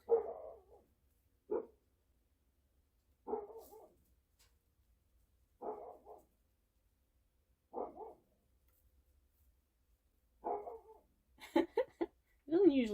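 A tied-up dog barks in single, spaced-out barks every couple of seconds at a moderate distance, ending with a quicker cluster of yips and higher whining barks.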